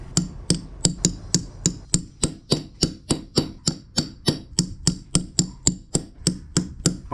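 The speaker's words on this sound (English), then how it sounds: "Let's start riveting our thing together." Steady hammer strikes set rivets into a handmade leather pouch, about twenty sharp, evenly spaced blows over several seconds, each one near and loud with a short ring, and no voices.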